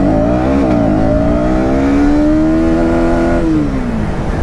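KTM Duke 200/250 motorcycle engine revving hard as it accelerates through the gears, a loud steady pitch climbing, dropping briefly at a shift, then rising again before easing off near the end, with no talk.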